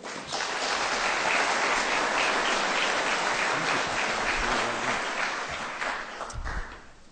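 An audience at a panel talk on the 1973 Arab-Israeli war applauds to welcome the panelists, with steady sustained clapping for about six seconds that tapers off at the end, with no talking over it.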